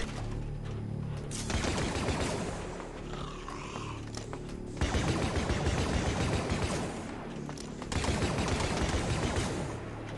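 Rapid bursts of video game gunfire in Star Wars: Deathtroopers crackle repeatedly in close, loud volleys, with brief quieter gaps between the sustained firing.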